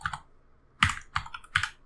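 Several quick bursts of keystrokes on a computer keyboard, close and clear, with short pauses between the clusters of taps.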